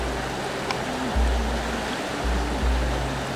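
River water rushes steadily through a stream in Norway, a broad constant hiss heard close and loud throughout, with a low hum coming and going beneath it.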